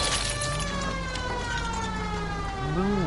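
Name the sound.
police siren in video game LA Noire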